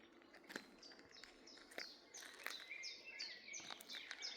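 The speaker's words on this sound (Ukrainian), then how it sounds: "Дуже гарно співають пташки. Ви, мабуть, чуєте це." Several birds chirp and trill in a forest in quick, overlapping calls, sounding faint and distant in an otherwise quiet outdoor setting.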